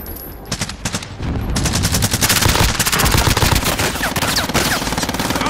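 Rapid automatic gunfire from the video game Warzone, loud sustained bursts of shots that thicken into continuous firing, with no talking.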